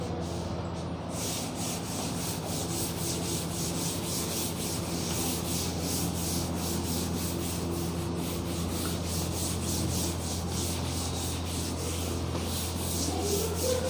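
Steady, continuous rubbing throughout a fluids physics lecture, an even scratchy friction with faint rhythmic strokes that persists for about fourteen seconds without talk.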